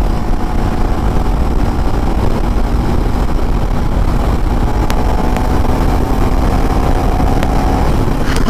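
KTM Duke 390 Gen 3 cruising on a highway at around 6200–6300 RPM, a steady engine hum buried in constant loud wind and road roar, with no speech.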